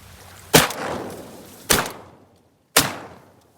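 Three loud, close shotgun blasts from a duck hunt, spaced about a second apart, each with a sharp crack and a trailing echo over the outdoor background.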